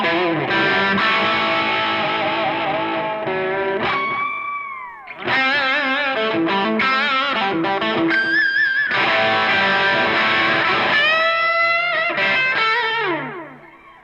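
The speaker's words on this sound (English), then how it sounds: "delay to me is kind of like reverb" Electric guitar played through a delay effect with some distortion, bright chords and single notes ringing out with trailing repeats and swooping pitch bends, loud and continuous with a short pause in the middle.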